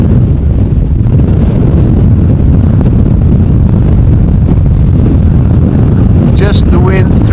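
Strong wind buffets an outdoor microphone at Amsterdam Schiphol airport during a storm, a loud continuous low rumble and roar throughout, with a brief higher whine near the end.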